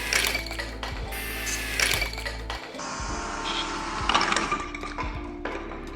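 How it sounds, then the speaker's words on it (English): A power drill bores through a board, its motor whirring and bogging in close, loud bursts with brief pauses between runs. "I'm gonna drill through the middle of the thing."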